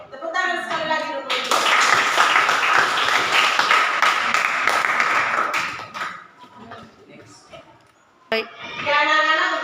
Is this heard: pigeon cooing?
no